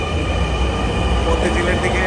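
A metro train pulls away from Farmgate station heading toward Motijheel, a steady loud rumble and rail hum filling the platform with people talking over it.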